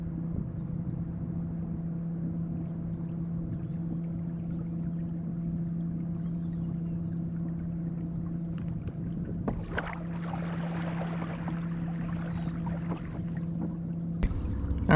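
A Watersnake T24 electric trolling motor converted to run on 18 volts pushes a small boat with a steady low hum and faint whine, joined midway by water splashing and wind.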